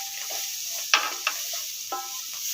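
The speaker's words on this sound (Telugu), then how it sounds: "మన ఆకుకూరలు వేగినాయి, క్యాప్సికమ్ వేగింది" Leafy greens and capsicum sizzle steadily in a hot pan, with a few sharp scraping clicks of a spatula stirring them, close and fairly quiet with no talk.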